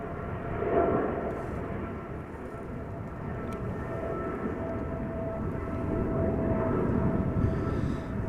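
A 19-year-old KLM Boeing 777-200 takes off at Amsterdam Schiphol, heard as a broad, fairly distant jet roar that swells and eases over several seconds, with no voices.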